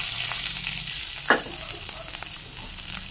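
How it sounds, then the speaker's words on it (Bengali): Onions and chilies dropped into hot oil in a kitchen pan after fish frying, a steady sizzle with one sharp spatter burst as they hit the oil, then light stirring, with no talk. "পেঁয়াজ মরিচগুলো দিয়ে দেবো,"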